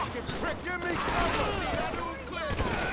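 Rapid gunfire in GTA 5 Online on PS5, with repeated bursts and shots rattling loudly and continuously over game noise, while players talk over the shooting.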